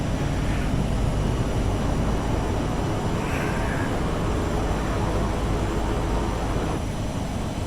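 Flight-simulator cockpit audio of a Real Air Duke Turbine in FSX as the turboprop goes into beta: a steady, loud, broadband engine roar that holds level throughout, with no talking.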